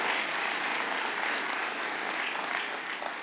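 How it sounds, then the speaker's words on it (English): An audience at the Urban League's State of the Urban League address gives Marcia a warm round of applause, dense and sustained clapping filling the hall throughout. "let's once again give Marcia a warm round of applause"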